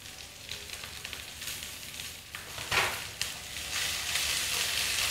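Shredded cabbage frying with spaghetti in an oiled pan, a steady close sizzle with scraping stirs and a few sharper crackles, growing slightly louder toward the end.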